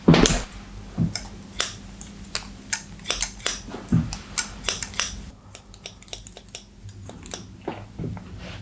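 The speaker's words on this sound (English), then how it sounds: "And just point cutting into the end as well, like that." Scissors snip again and again while point cutting the ends of a short, choppy men's fade haircut. The sharp clicks come close and in an irregular rhythm, with a quiet room hum underneath.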